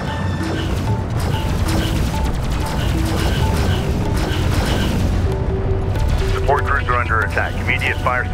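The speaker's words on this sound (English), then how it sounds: "The sensor's post is under fire." Battlefield gunfire and booming explosions at a besieged sensor outpost in Homeworld: Deserts of Kharak, a dense continuous barrage with rapid cracks and rumbling impacts, while a synthetic voice announces alerts near the end.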